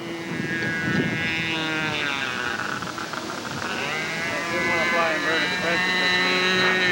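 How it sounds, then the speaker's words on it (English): A radio-controlled model airplane at a flying field passing by and looping, its thin engine whine rising and falling in pitch through the maneuver while someone talks over it. "There she comes by, pulling up. Flip over at the top, back down out of the loop."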